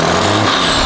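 A farm tractor engine runs loudly and close by, a steady rumbling drone that fills the whole brief moment with no talk over it.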